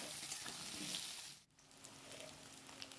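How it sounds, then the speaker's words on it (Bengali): Potatoes sizzle and crackle in a hot pan with a steady, soft hiss that dips briefly halfway through. "আলুটা এবার একটু ভালো করে ভেজে নিই"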